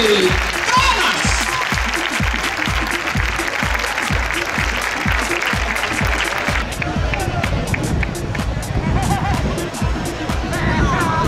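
A crowd claps in a fast, steady rhythm at a bull-leaping recortes contest final in Valdetorres, Madrid, with loud, even beats over crowd hubbub. The clapping thins out after about two-thirds of the clip while the general crowd noise continues.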